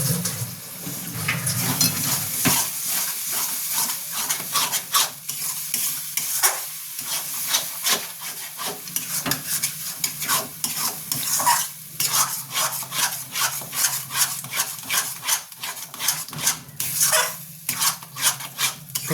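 Green peas and chana dal frying together in a wok, with loud close sizzling and repeated scraping stirs in a quick irregular rhythm, alone without speech.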